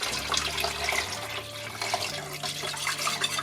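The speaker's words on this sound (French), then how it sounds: "Donc maintenant, on va ajouter l'eau qui est donc bien brûlante. On l'ajoute litre par litre." Hot, nearly boiling water pours steadily into a pot of mloukhia, a continuous close splashing and gurgling stream with no talk.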